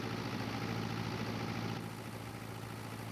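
Steady, droning idle of a tractor engine in the Farming Simulator 22 video game, a continuous low mechanical hum with constant level and no voices.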